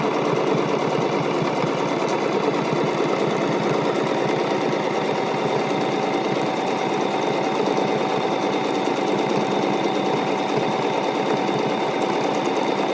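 A Bernina sewing machine runs steadily for the whole stretch during free-motion quilting without a stitch regulator, giving a loud, continuous, even whir with no voices.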